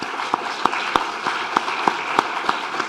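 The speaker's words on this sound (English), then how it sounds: "So please join me in a round of applause for their hard work and enthusiasm." Audience applauding foundation staff at the close of a conference, a steady wash of clapping with a few sharper individual claps standing out at regular intervals, moderately loud throughout and without talk.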